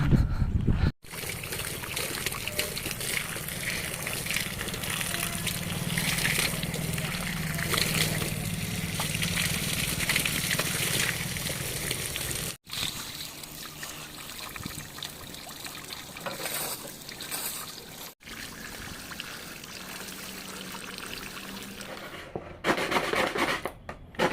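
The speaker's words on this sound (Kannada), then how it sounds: "ಸೊ ಇವಾಗ ಫಸ್ಟ್ ನೀರು ಹೊಡೆದು ಬಿಡ್ತೀನಿ" Water sprays steadily onto fresh concrete columns at a house construction site for curing, a continuous hissing splash that runs for most of the stretch with brief breaks.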